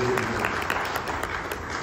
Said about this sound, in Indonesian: Tepuk tangan buat Tuhan Yesus yang selalu tahu.